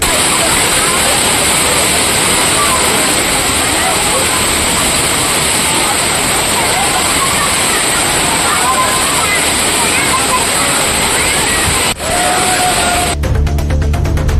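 Thirparappu waterfall in Tenkasi, water crashing down steadily as people bathe, a loud, unbroken roaring rush filling the whole span, ending in a short burst of electronic noise.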